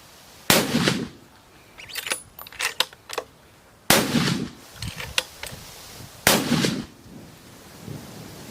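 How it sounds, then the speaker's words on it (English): Three sharp, loud rifle shots ring out a few seconds apart at a target during a hunting outing in South Africa, each followed by a brief echo and faint rattling handling noises. "Take 3 shots on the target and see where we hit"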